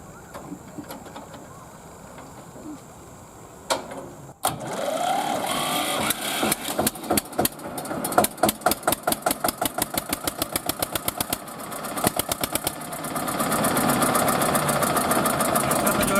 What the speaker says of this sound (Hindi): ट्रैक्टर को मैंने स्टार्ट भी कर लिया है और मैंने गेयर लगा दिया इसमें तीसरा और साउंड आप सुन रहे हो अभी